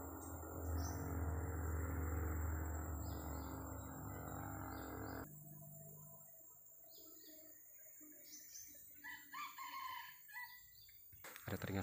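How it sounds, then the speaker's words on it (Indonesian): Sempidan jungle fowl call from dense hillside forest with large trees, distant and intermittent, with chirps from other birds and a stretch of steady broadband noise in the first part. "Sepertinya semua-semua itu ada suara ayam hutan."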